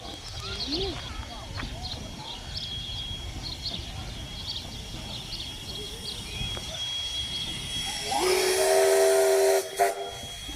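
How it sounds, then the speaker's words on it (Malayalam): A steam train on a Christmas ride gives a short sharp whistle blast near the end, with a hiss of steam, after a stretch of quieter background murmur and voices talking. "അടുത്ത ട്രെയിൻ"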